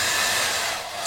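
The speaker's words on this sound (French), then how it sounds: "d'un sèche-cheveux. Pourquoi on a besoin de quelque chose qui propulse de la chaleur?" A hair dryer blows a continuous, loud, broadband rush of air at close range, steady throughout with no voices.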